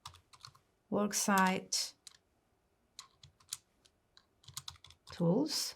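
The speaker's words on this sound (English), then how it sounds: "We need to overwrite that and actually type sales" Typing on a computer keyboard in an accounting program produces light, quick clicking keystrokes in short bursts, close and quiet, between stretches of a person talking.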